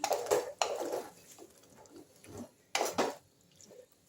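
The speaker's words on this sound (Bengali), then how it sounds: "একটু জল দিয়ে দিচ্ছি" Water splashes into a pan of frying vegetables and sago in a few short, hissing bursts, close and moderately loud, with quieter scraping in between.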